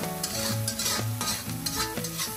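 Pork ribs stir-fry with chili in a wok over low heat, giving a close, steady sizzle with repeated scraping strokes of the spatula. Background music plays and no one speaks.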